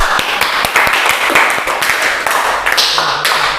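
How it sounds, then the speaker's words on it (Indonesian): Irregular close hand claps from a small group in a teacher-training classroom, uneven and overlapping for several seconds, fairly loud, with no voices over them. "Tepuk tangan untuk kita semua."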